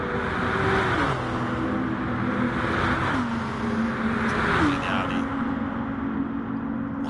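Lamborghini race car engine in a racing video game, a steady high whine that climbs through the gears with several clear shifts, running under a commentator's voice.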